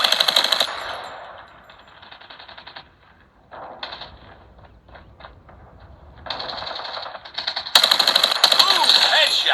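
Rapid automatic gunfire from a mobile shooter game such as PUBG Mobile or Call of Duty, played on a POCO X7 Pro phone, comes in loud sustained bursts with quieter scattered shots between them, and a voice talks over the action.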